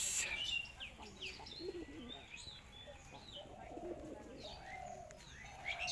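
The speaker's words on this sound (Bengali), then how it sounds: "এই যে চলে আসছে কবুতরটা" A sick pigeon coos faintly among other birds, with soft coos mixed with scattered high chirps in a quiet setting.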